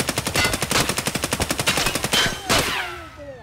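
Automatic gunfire in the game Escape from Tarkov, a rapid burst of about twenty close, loud shots in even rhythm lasting over two seconds, ending with a final crack and echoing tail.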